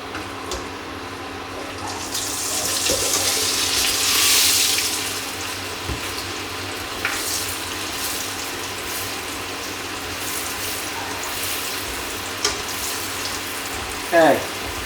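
Pork ribs dropped back into hot oil for a short second fry, giving a steady broad crackling hiss that swells early and then holds, with a few clinks near the end.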